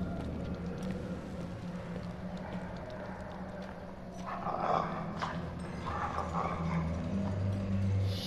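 A dog in the survival horror video game Until Dawn barks a few times in the middle of the clip and again near the end, over a constant low game ambience with faint thuds.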